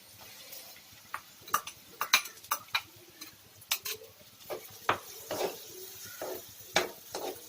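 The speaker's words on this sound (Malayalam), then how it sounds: "അതിനുശേഷം സവാള ഇട്ട് വശക്കുക." Onions sautéing in a pan for Gobi Manchurian, a quiet sizzle under repeated distinct scrapes and clinks of a spoon stirring against the pan, fairly close.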